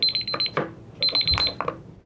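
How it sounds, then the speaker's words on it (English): A kitchen-style timer alarm goes off in two bursts of rapid high beeping, each about half a second long with a short gap between them, loud and close, with no talk over it. "Oh, there's our timer."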